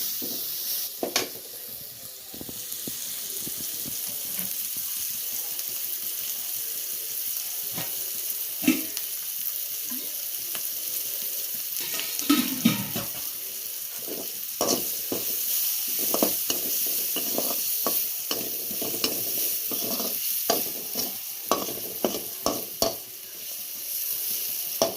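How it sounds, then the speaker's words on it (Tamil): Onion, garlic, green chilli and curry leaves sautéing in a pan for a plantain stir-fry, a continuous close sizzle broken by frequent sharp spatula scrapes and taps against the pan, with no talking. "வெங்காயம், பூண்டு, பச்சை மிளகாய், கருவேப்பிலை எல்லாத்தையும் போட்டு வதக்கிக்கிறோம்"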